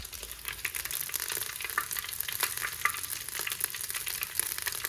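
Mustard seeds sizzle and crackle in hot oil, tempering for khichdi: a close, continuous frying hiss scattered with small sharp pops, no talking.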